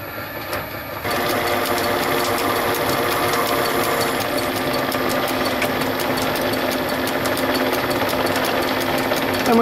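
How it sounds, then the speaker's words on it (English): A lathe with a center drill or spot drill cutting metal, a steady loud mechanical whir and hum that starts abruptly and continues evenly without talk. "next job is to put a center drill in it, or a spot drill"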